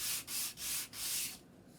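Rough sandpaper is rubbed over the gluing edges of a wooden board in four quick strokes, each a close, breathy hiss, followed by a quieter pause.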